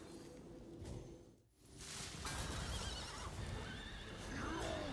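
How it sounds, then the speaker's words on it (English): A horse neighs and whinnies in the Hearthstone card game as a horse minion is reincarnated, loud and prominent over busy game effects and music, after a brief dip in the middle. "And let's reincarnate our horse."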